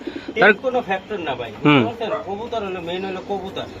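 Racer pigeons coo in repeated soft, throaty phrases close by, rising and falling in a steady rhythm while a person talks nearby.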